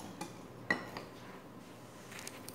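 A cooking pan being handled on a stove while a simple homemade dessert is prepared, giving a few faint metallic clinks and knocks, one sharper clank near the start, in an otherwise quiet kitchen.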